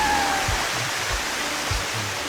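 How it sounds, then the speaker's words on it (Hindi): A waterfall near an airport in Taiwan gives a steady, dense broadband rush of falling water that fills the whole moment, with a few low thumps beneath and no voices. "ये पहला झरना है"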